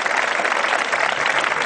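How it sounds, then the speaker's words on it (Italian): Loud, dense crowd applause at a closing political rally, continuous clapping throughout the short burst with no voices on top. "a loro un applauso per un futuro all'insegna dei loro desideri"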